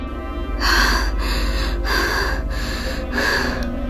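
Heavy, rhythmic breathing close up, a series of loud gasping inhales and exhales repeating steadily over a low rumbling background.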